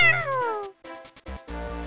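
Game-style cat meows from Zelda: The Minish Cap, a few short rising-and-falling synthetic mews in quick succession, fairly loud and clear with no talking over them.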